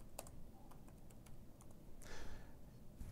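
Someone types on a computer keyboard while writing code. Light, irregular clicks and key taps sound close by and quiet, with a brief clustered burst partway through.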